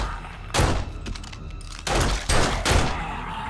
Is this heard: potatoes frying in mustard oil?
no